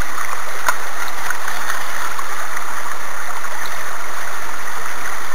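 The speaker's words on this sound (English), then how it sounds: "This is how my sluice has been running." Water rushes through a gold sluice fitted with a rib mat, making a constant close hiss and gurgle that stays steady and loud for the whole stretch, without any talking.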